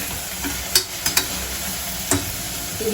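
Fried onion, tomatoes, coriander and mint being stirred in a pan: a soft steady sizzle with a few sharp scraping taps of the spoon against the pan, close and fairly quiet, with no talking.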